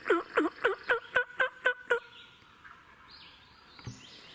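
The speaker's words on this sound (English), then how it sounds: "There's that bird gobbler right back there, and he's not far at all." A wild turkey gobbler on an Arkansas mountain gobbles in a loud, close burst of about eight rapid rattling notes, followed by quieter woodland background.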